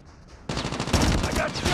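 An automated sentry gun fires in Call of Duty Mobile, a sudden burst of rapid gunfire kicking in after a brief quiet moment and continuing steadily, loud and close.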